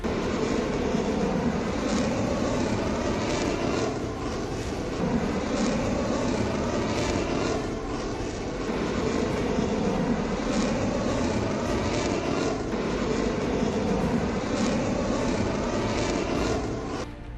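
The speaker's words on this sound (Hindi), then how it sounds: "विंटेज हार्वर्ड एयरक्राफ्ट, चमकीले पीले रंग का ये विंटेज एयरक्राफ्ट आसमान को 4 चांद लगाता दिखेगा, जिसे विंग कमांडर अमित हुमावकर और आनंद कुमा" Bright yellow vintage Harvard propeller aircraft flying at an Air Force Day air show, a loud continuous buzzing engine drone with rising and falling swells as it passes overhead.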